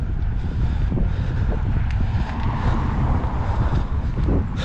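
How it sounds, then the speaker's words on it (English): A breezy outdoor gust buffets the microphone with a constant low rumble, loud and close, no voices over it, with faint traffic-like hiss underneath. "It's getting quite breezy now."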